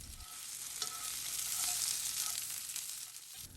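Potatoes and onions frying together in a pan, a brief, fairly quiet steady sizzle heard close by with no talking.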